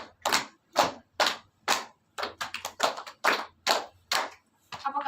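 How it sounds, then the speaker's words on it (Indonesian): Classroom of students clapping a counted pattern, crisp group claps in a steady rhythm with a faster cluster in the middle, fairly close and with no talk over them. "dan yang terakhir, tepuk 5 2 kali"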